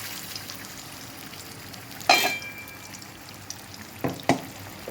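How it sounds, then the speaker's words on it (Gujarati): Onion and tomato paste frying in hot oil in a kadai gives a steady soft crackle, with two sharper bursts of sizzle and stirring partway through and near the end. "કાંદા ટામેટાની પેસ્ટ આપણે આમાં એડ કરીશું."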